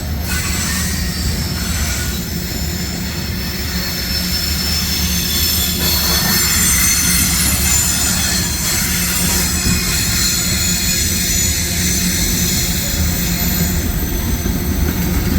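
A CSX mixed freight train with coal hoppers rolls past, a continuous loud rumble of wheels on rail with squealing and clattering from the passing cars.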